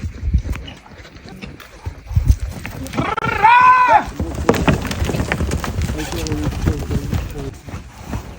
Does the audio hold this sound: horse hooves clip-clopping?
yes